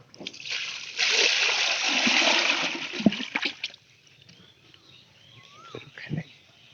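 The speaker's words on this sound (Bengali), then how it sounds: "আমি এখানকার দুই বালতি পানি দেওয়ার পরে এই খাবারগুলো আগে এর মধ্যে দিম" Water from buckets is poured for cattle feed, a loud rushing splash lasting a few seconds, then trickles and faint knocks fade into quiet with occasional small sounds.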